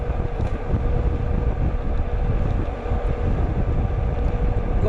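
Steady rushing wind noise buffets the microphone while a Hanevear H100 dual-motor e-bike cruises on throttle alone into a light headwind at about 27 mph, a continuous low roar with no speech.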